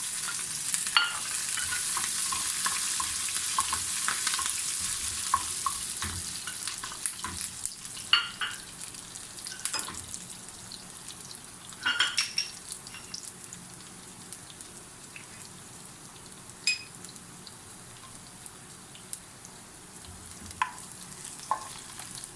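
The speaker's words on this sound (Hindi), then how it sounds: "1 टीस्पून ज़ीरा और थोड़े से मैंने अदरक और हरी मिर्चें और धनिया काटा है, वो भी इसी बघार में शामिल कर दूँगी" A tempering of cumin, ginger and green chilies sizzles in hot oil for lentils. The hiss is bright and crackly at first, then settles to a lighter fizz, with scattered pops and a few stirring scrapes.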